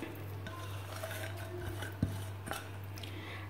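Lentil vada batter of soaked dal, chopped green chilli, coriander and curry leaves being stirred in a bowl, giving quiet scraping and a couple of light taps against the bowl over a steady low hum.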